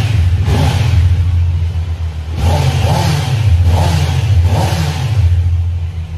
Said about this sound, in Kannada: ಜಸ್ಟ್ ಒಂದ್ಸಲ ರೆವ್ ಮಾಡಿ ತೋರಿಸ್ತೀನಿ